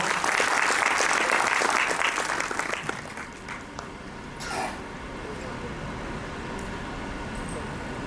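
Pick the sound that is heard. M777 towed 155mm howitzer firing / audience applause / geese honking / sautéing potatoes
audience applause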